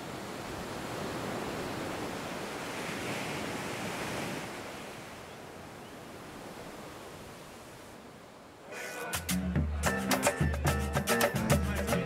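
Surf rolls onto Ipanema beach at sunset as a broad, steady wash of waves, softening midway before a louder, choppier burst of sound takes over near the end.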